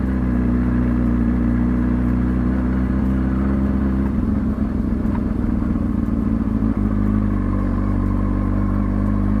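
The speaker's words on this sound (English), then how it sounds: "never go hard on the throttle like this" Motorcycle engine running close by at low speed with the throttle rolled on. It holds a steady mid-pitched hum with a rougher, revving stretch partway through, and no one speaks over it.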